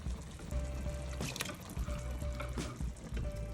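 Water poured from a container into a pot of simmering baked beans with codfish, a steady close splashing trickle with faint clinks, no talking.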